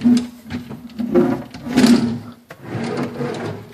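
Drawers in a clean rental home slide open and shut with repeated wooden scraping and rumbling, close and fairly loud, a short bump between strokes.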